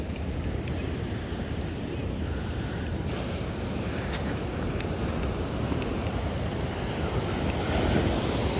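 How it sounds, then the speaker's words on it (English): Ocean surf crashes and churns against rocks at Sunset Cliffs in San Diego, a continuous loud roar of breaking water mixed with gusty wind noise on the microphone, with no voices. "when the tide smashes into these rocks, the water splashes all the way up to right where I'm standing."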